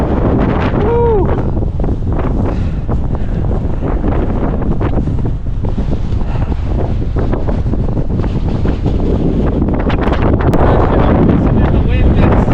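Strong gusts in the New Hampshire White Mountains batter the microphone with loud, continuous roaring buffets, while a person whoops briefly near the start.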